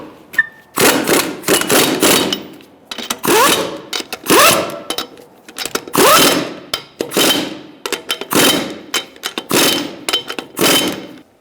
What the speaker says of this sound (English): Using a 21mm socket, we're going to tighten up our lug nuts in a crisscross manner